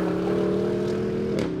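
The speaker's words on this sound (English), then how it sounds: "This is what a V8 super SUV should sound like." A Porsche Cayenne Coupe GTS V8 engine rumbles and holds a steady, throaty note, then shifts pitch briefly near the end, loud and close.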